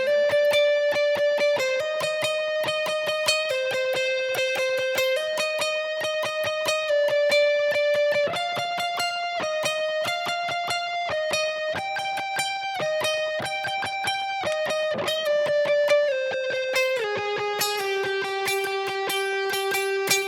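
An electric guitar plays a steady single-note melody with even downstrokes and a clean, sustained tone. It moves through shifting pitches for about twenty seconds with no pauses and no talk.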